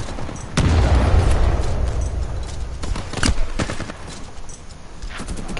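A grenade goes off in Titanfall with a sharp, heavy boom, then a loud rumbling tail broken by further bursts of gunfire and impacts.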